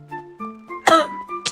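A single short, harsh cough bursts out midway, near and fairly loud, over a backdrop of steady electronic tones and a brief click near the end.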